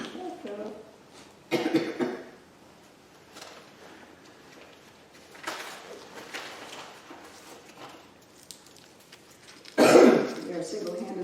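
Several sharp coughs and throat clearings during a religious lecture class, loud and close, spaced out with quiet pauses between them.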